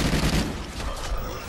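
Dual-wielded pistols fire in rapid, dense succession in a video game, a continuous loud barrage of overlapping shots for well over a second.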